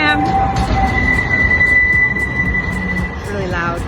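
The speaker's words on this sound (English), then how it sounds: "there's the tram." A tram passes close by on a street in Istanbul, loud and rumbling, with the wheels squealing on the rails in a long high whine.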